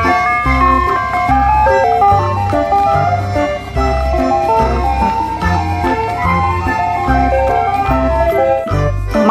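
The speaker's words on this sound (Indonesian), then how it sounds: "Yang ini ada mobil es krim." A toy ice cream truck plays its loud, continuous melodic jingle close by, a bright repeating tune running throughout without pause.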